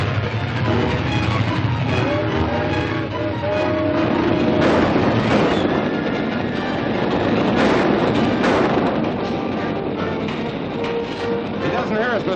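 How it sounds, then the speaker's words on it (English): A train running on rails in an old 1948 serial, a dense rumbling clatter of wheels and cars that fills the whole stretch, with people talking over it. "This train is going to be derailed."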